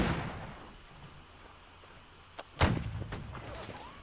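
A cannon fires in the video game Holdfast: Nations At War during a coastal siege of forts and ships, one sharp distant boom followed by a rumbling tail and a few smaller reports, over steady ambient noise.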